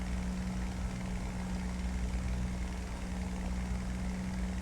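Steady propeller-engine drone of a plane in a flight video game, heading for an emergency airstrip at full power; a constant low hum and broadband roar holding evenly throughout, with no talking.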